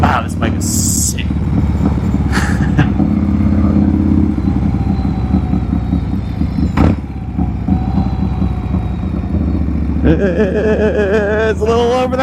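A 1993 Harley-Davidson Softail cruiser rumbles steadily throughout the ride, its low engine note sustained and close, with wind buffeting and brief clatter, and a rider's voice speaking over it near the end.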